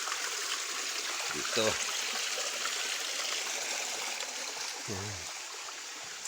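Stream flowing beside a planted field outdoors, a constant broad rushing trickle of water at moderate level, with someone speaking briefly twice over it.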